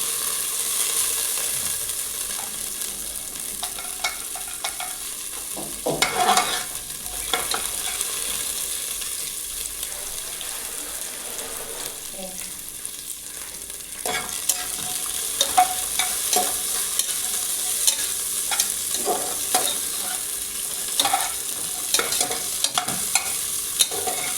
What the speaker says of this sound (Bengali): কাজু কিশমিশটা হালকা ফ্রাই হয়ে গেছে